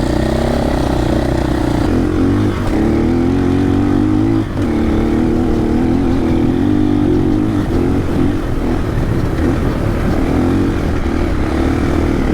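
Loud, continuous engine drone from a 2024 KTM 500 EXC-F dirt bike ridden through soft beach sand, with a steady rumbling tone and slight shifts in revs, close and without speech.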